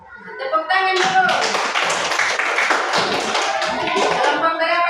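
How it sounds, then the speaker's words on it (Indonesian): A class of students claps hands together in a classroom, starting quietly and swelling into a brisk, uneven burst of claps, with voices mixed in. "Tepuk tangan dulu."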